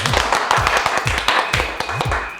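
Rhythmic handclaps from a small group at a hair salon, a run of sharp even beats carrying steadily through the whole stretch with faint voices mixed in.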